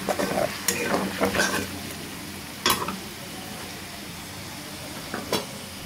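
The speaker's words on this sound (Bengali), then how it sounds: "এগুলোকে আমি ভালোভাবে ভেজে নেব।" Chicken pieces for a spicy roast fry in a pan under a soft continuous sizzle, broken by several sharp scraping clatters of the stirring spoon against the metal.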